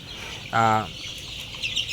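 A month-old Fayoumi chicken gives one short, tonal cluck over a steady farmyard hiss, followed by faint chirps.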